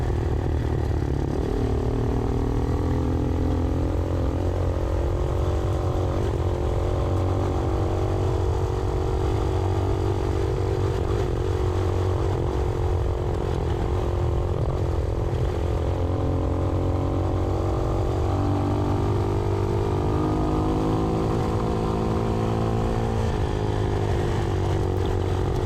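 Honda Hawk 250 motorcycle being ridden, its engine droning steadily and loudly throughout with gentle rises and falls in pitch as the throttle shifts, no voices over it.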